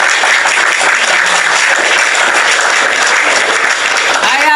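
Steady, dense clapping from a crowd or group, loud and continuous throughout, with voices mixed in underneath.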